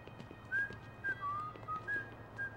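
A character in the PlayStation 2 game The Godfather whistles a short tune in clear, bright notes over a low steady hum and soft background noise.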